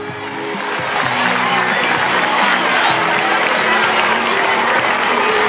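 A large audience at a school singing event applauds and cheers for 1,600 schoolchildren, a loud, building wash of clapping and crowd noise with voices mixed in and a faint tonal hum underneath.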